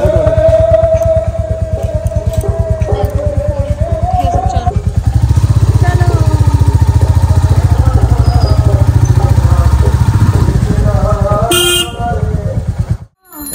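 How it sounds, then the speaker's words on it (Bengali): A motorcycle carrying passengers pulls away and rides on, its engine holding a steady, close drone, with a horn tooting near the end and faint voices now and then. "এবার বাইকে উঠবো।"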